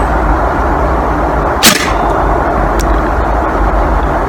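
An air rifle fires a pellet at a target during a zeroing challenge: a single sharp crack stands out about midway through a steady, loud background rumble, followed by a fainter secondary tick a second later.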